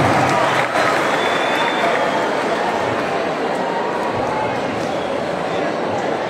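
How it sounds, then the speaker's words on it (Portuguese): At a PP party convention, a crowd applauds in a dense, continuous wash of clapping mixed with voices, loud and close throughout. "Salve de palmas, Orlando!"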